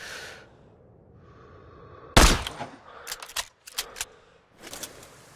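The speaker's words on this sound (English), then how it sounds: "Check the wind and pull the trigger." A single sharp, loud sniper rifle shot in Sniper Ghost Warrior 3, preceded by a faint whine and followed by a bolt cycling with metallic clicks and rattles.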